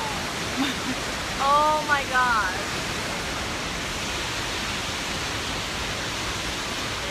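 A waterfall roars in a steady, dense wash of noise close by, while a voice briefly exclaims over it near the start.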